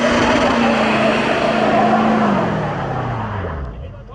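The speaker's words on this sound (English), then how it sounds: "Oh shit, dude, burnout." An electric dirt bike doing a burnout gives a loud, steady whine that holds, then drops in pitch as it winds down near the end, with a gritty roar of spinning tire underneath throughout.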